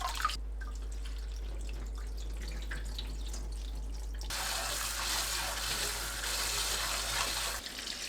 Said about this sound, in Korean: 찬물에 흔들어가면서 여러 번 헹궈내세요.